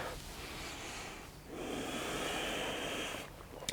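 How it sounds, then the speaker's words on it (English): Steady breathing in and out through the nose during a vinyasa yoga class, a soft continuous airy rush with a brief dip before a longer, fuller exhale, close and quiet with no talking. "Inhale, exhale through the nose."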